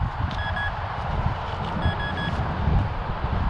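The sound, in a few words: metal detector beeping continuously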